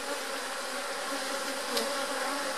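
Honey bees at an opened hive make a dense, continuous buzzing drone, close and steady for the whole stretch, with no voices over it.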